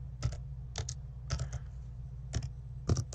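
Fingers typing on a computer keyboard to fill a text field, giving scattered clusters of crisp key clicks with irregular pauses, close and fairly quiet, without any talking.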